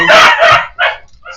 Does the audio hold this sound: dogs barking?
yes